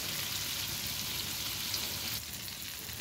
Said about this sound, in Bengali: সরিষার তেলে রান্না করতেছি